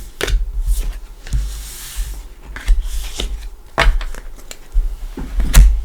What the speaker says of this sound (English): We'll shuffle those back in.